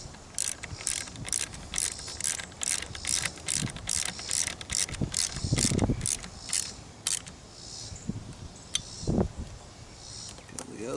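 A ratchet rapidly clicks in a quick, regular run while tightening down top cuffs, then slows to scattered clicks and clunks of metal parts close by.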